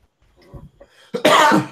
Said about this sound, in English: When you laugh so hard you cough